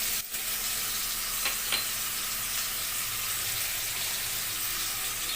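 Turmeric, cumin powder and chilli powder with salt sizzle steadily in a pan for a Bengali curry, a continuous close frying hiss with a couple of brief scraping stirs early on, no talk.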